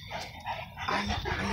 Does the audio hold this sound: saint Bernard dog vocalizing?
yes